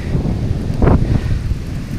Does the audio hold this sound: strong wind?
yes